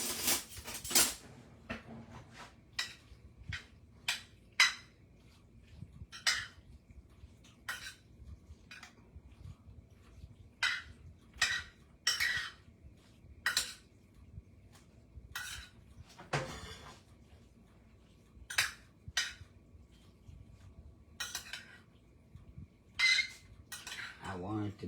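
A smaller spoon turns taco mac and cheese in an oven tray, making a long series of separate metallic scrapes and clinks with quiet gaps between them and a faint low room hum.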